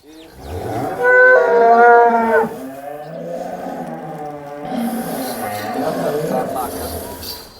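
Cows moo in long, loud, drawn-out calls, one after another, close by with some background noise.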